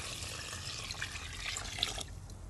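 Water is poured into a cooking pot for chicken tinola, a steady close splashing stream that eases off toward the end.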